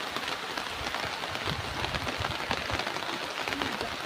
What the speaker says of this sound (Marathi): जोरदारच पाऊस चालू आहे